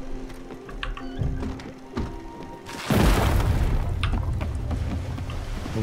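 In the Spiritfarer video game, ice crashes down with a sudden heavy boom and a sustained rumbling, shattering roar that stays loud after a quieter musical passage.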